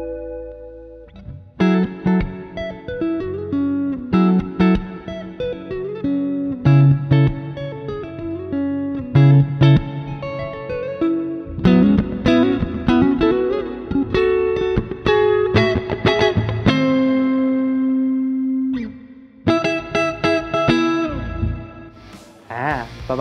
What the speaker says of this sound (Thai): และนี่คือเสียงคลีนะครับ